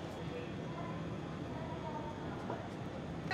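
Passenger train running between Bandel and Bardhaman, heard from inside a 3-tier coach: a steady, even rumble of wheels and carriage noise fills the whole stretch without a break.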